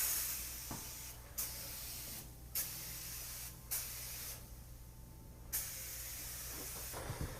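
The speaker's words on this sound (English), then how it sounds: "Bed bugs love to hide in these box springs areas, and so you can spray all these areas right here." Repeated bursts of pump-spray bed bug treatment hissing into the folds and crevices of a box spring, several separate sprays at close range with short pauses between them, no talking.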